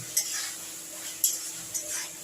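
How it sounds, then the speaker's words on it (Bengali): Spice paste sautéing with cauliflower and carrots for a vegetable moong dal, with a spoon scraping and stirring in a pan in a few distinct strokes over a faint background sizzle. "এবার দেখুন মশলাটা কষাও হচ্ছে ফুলকপিও সেদ্ধ হচ্ছে গাজরও সেদ্ধ হয়ে গেছে"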